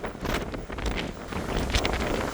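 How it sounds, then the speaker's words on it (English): Wind gusting steadily across the open deck of the Queen Mary 2 ocean liner during a summer transatlantic crossing, a continuous rushing roar with buffeting on the microphone throughout. "Uh-oh, a wind."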